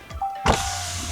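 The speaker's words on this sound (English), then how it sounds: "we're rolling down the windows" Power windows on a 2021 VW ID4 electric car roll down with a brief motor whine, then a steady electric hum inside the cabin, close and clear.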